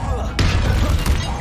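Confringo fire spell blasting in Hogwarts Legacy: a sharp crackling impact hits early, then a dense fiery rumble continues, with a second brief crack near the end, loud and close.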